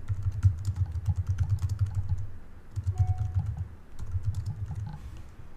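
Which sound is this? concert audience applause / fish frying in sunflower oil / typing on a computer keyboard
typing on a computer keyboard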